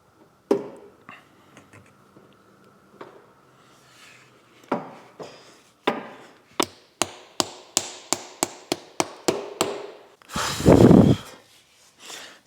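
Metal striking sounds from fitting an axle into a Mitsubishi Lancer Evolution VIII during a restoration, with a few scattered knocks followed by a rapid run of about ten sharp, close taps and a louder scraping burst at the end.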